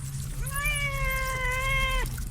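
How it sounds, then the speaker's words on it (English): A cat sound effect played during a live stage performance of A Christmas Carol: one long, steady meow lasting almost two seconds, clear and prominent over a low hum, with no talk. "Hark, at the cat scratching at the door, and the rat gnawing in the wall."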